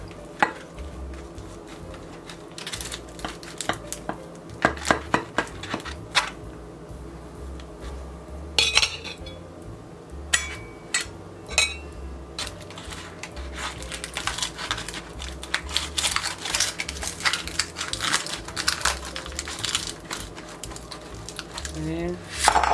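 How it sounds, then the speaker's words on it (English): A knife cuts through a spaghetti-stuffed meatloaf with repeated soft scrapes and clinks of cutlery on a dish, set against a steady low background hum. "now we're just going to slice into it"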